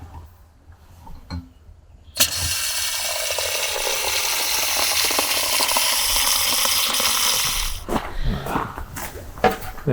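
Nitro cold brew coffee pours in one steady, loud hissing gush for about five seconds. It starts abruptly after a few light clicks, then breaks into scattered taps and rattles as it stops.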